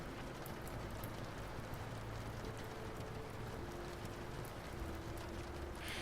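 Steady rain falls at night outside a castle, beyond a covered stone terrace, a soft continuous patter and hiss heard at low level with no voices.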